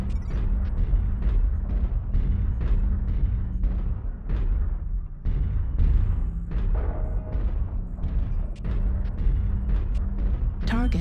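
Missile explosions in a video game land as a dense string of heavy booms and blasts over a steady low rumble, loud and close throughout.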